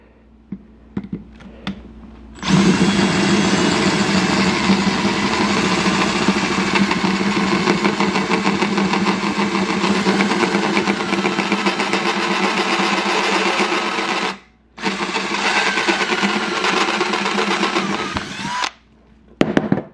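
A power drill bores out rivets on a 2014 GSXR 750 exhaust canister, a loud sustained close whine running for long stretches with one brief pause, preceded and followed by small clicks and handling knocks.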